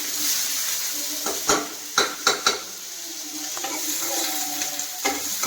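Finely chopped onions sauté in a pan with curry leaves, a steady sizzle running throughout while a spoon scrapes and clinks against the pan in several sharp bursts.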